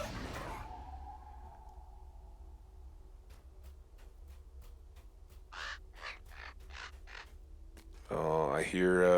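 Crows, the crebain of the game Lord of the Rings Online, cawing in a series of four or five harsh calls at mid distance, followed by a voice speaking.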